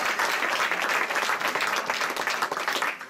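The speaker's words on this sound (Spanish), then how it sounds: "Démosle un fuerte aplauso al Señor." A church congregation applauds together, a dense and fairly loud burst of clapping sustained with small swells and dips.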